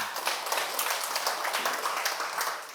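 Audience applause, a steady dense patter of many hands clapping throughout, fairly loud and continuous, with no talk over it.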